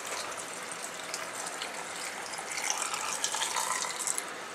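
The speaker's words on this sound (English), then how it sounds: "So just a little bit more vinegar. Not that much. A little bit more water." Vinegar and water are poured into pickling liquid for onions, making a steady, close, hissing gush with faint splashy flickers. The sound swells slightly toward the end.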